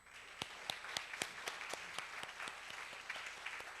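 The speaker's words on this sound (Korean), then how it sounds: "박수 한번 하십시다." Congregation applauding in a church service, a steady wash of many hands clapping with sharper individual claps standing out, moderately distant and continuous throughout.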